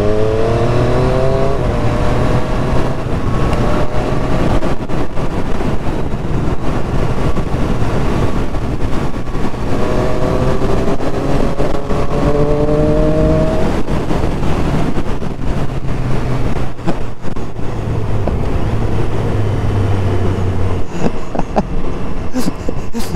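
A Triumph Street Triple RS motorcycle engine accelerates repeatedly, its rising whine climbing through the gears at close range, with steady wind and road noise underneath and no talk.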